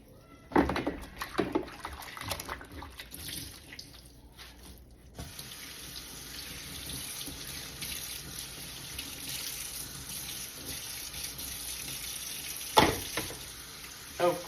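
A kitchen sink tap fills dishwater with bleach. A few clicks and clunks come first, then a steady close rush of running water, with another clunk near the end.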